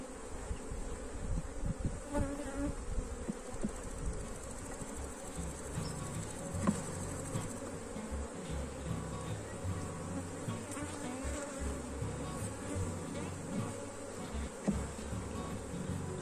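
Dense, continuous buzzing of a bee swarm at an open hive fitted with a honey super, a steady layered drone close by with individual bees passing and no talk.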